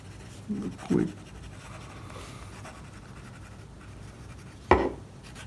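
A fine-nib Airmail Wality 74 fountain pen scratches softly across paper in short strokes, faint and close, with a few louder taps or knocks.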